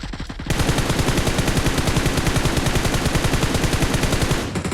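Rapid automatic gunfire from PUBG, a fast, steady stream of loud, close shots that starts abruptly after a brief quiet lead-in and runs almost unbroken before easing off at the end.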